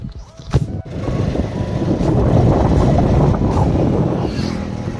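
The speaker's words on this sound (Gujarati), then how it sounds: "પવન સારો આવે છે" Strong wind at a dairy with large windmills nearby buffets the microphone, producing a loud, continuous low rumble that builds in the first seconds and then holds steady.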